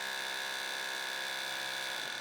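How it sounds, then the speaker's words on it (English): A conventional drill bit boring a hole gives a loud, steady, high-pitched whine that holds constant and then drops slightly in pitch near the end, with no voices. "Conventional drill bits produce over 110 decibels of noise while boring a hole."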